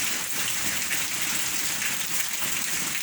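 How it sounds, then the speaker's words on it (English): Steady heavy rain falls, a loud, even hiss of drops on surfaces close by that holds without pause, with no voices. "Got a week's worth of rain now."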